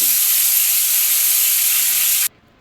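Herbal hair oil mixture boiling in a pan gives off a steady, loud, bright hiss and sizzle that runs unbroken and then cuts off abruptly near the end.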